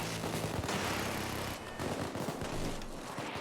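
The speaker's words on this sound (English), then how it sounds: "there's a sniper and a minigun out here" Sustained minigun fire in the video game Payday 2, a dense rattling barrage of rapid shots that runs continuously, pauses briefly at the midpoint, then resumes at moderate distance.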